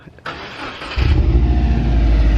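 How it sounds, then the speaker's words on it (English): Two performance cars, a Subaru WRX and a Honda Civic Type R, start up one after another late at night: a first engine catches abruptly, then a deeper, louder second starts and settles into a steady, close rumble with no talking. "Start up on Min's Subaru WRX, the G6, and McGill's Civic Type R"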